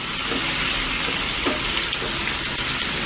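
Food sizzles and splatters steadily in a hot pan while it is stirred over and over, a dense, close, continuous frying hiss with occasional scraping of the spoon.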